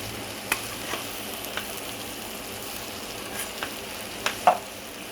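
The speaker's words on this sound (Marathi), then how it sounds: "परत परतूया" Cauliflower curry fries in a pan with a soft, steady sizzle while a spoon scrapes and stirs in a few sharp clinks, close by and with no voices.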